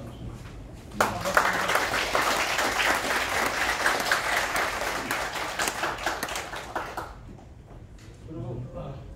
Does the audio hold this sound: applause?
yes